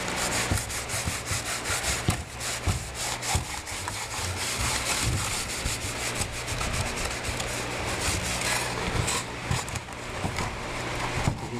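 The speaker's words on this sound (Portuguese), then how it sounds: "a gente vai lixar só só nessa parte aqui para tirar a rebarba" Sandpaper is rubbed steadily by hand over the burrs on a wooden boat hull coated with fiberglass, making a continuous loud, close scraping with quick back-and-forth strokes for the whole stretch and no voices.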